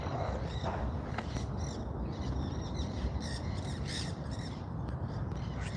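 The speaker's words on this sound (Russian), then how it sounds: "Попугаи." Parrots in Argentina squawk in harsh, scattered calls over a steady, noisy outdoor background, some distant, others a bit nearer, with no talking.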